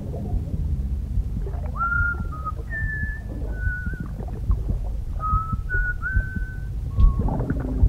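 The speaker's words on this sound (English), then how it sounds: "He was whistling a nice song for us." A character in the video game Death Stranding whistles a tune, a string of clear, sustained notes over a steady low rumble of background noise, with no talk.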